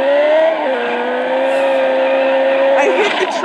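Car in the video game Turbo Dismount skidding and nearly crashing, a steady engine drone with a sliding tonal squeal that drops in pitch, then scraping clatter near the end, close and loud throughout.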